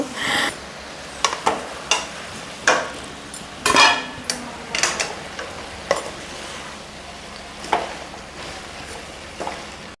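Gongura pods fry in a pan for a chutney under a steady sizzle, with a spoon scraping and clinking against the metal in irregular strokes.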